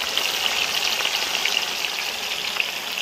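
Paneer frying in hot oil gives a dense, steady sizzle and crackle, close and continuous throughout, with no voices.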